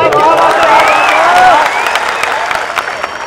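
Loud applause sweeps through the mushaira audience during a ghazal recital, dense clapping mixed with crowd cheering that stays strong and then eases slightly toward the end.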